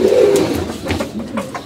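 Pigeons coo in a loft, a close, loud, low throaty coo at the start followed by softer overlapping bird calls over a short stretch.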